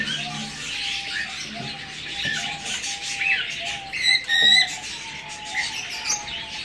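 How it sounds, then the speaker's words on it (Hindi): Caged lovebirds chirp and squeak in short, scattered bursts, with a brief sharp flurry of calls near the middle, over a quiet room background. "love bird"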